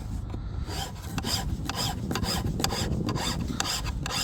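Hand file rasping along the edge of a sailboat hull bottom in steady back-and-forth strokes, close and fairly loud, with no talking.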